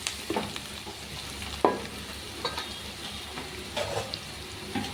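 Onions sauté in oil in a pan for a peanut and yam kurma, with a soft continuous sizzle broken by occasional scraping stirs and light knocks, no voices.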